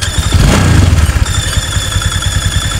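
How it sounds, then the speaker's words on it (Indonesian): Honda Vario 150 scooter engine running with its CVT assembly removed, a steady close idle with rapid low rhythmic pulsing and a faint high whine, slightly louder at first then settling. "Coba kita nyalakan tanpa rumah loler terpasang."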